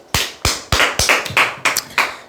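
Eight sharp hand claps in a steady, evenly spaced rhythm, close and loud, each with a crisp attack and a short decay, heard alone without any voices.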